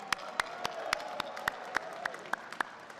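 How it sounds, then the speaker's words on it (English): Applause at a Lunar New Year reception in Ottawa: a crowd claps steadily for three seconds, with sharp, loud individual claps standing out at an irregular rhythm above a dense background patter. "Let's give another round of applause."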